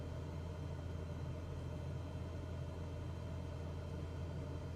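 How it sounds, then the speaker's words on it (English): A low, steady aircraft engine drone in Microsoft Flight Simulator 2024, set quietly in the background as a continuous rumble without change. "you want me to turn the engine sound a little bit up?"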